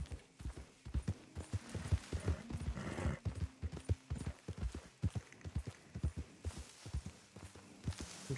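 Horse hooves clop steadily on the ground in the video game Red Dead Redemption 2, a fast, even trotting rhythm close by with a brief rushing swell in the middle.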